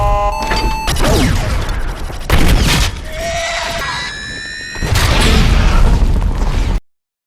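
A film scene in which gunfire destroys a drone: loud bursts of shots and booming crashes, mixed with whining mechanical tones and sharp impacts, all close and dense.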